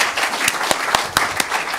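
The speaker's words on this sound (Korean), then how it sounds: "큰 박수 부탁드립니다." An audience at a debate forum on flying the national flag in Gwanghwamun Square breaks into steady applause, dense clapping from a crowd in a hall with a few sharper claps standing out.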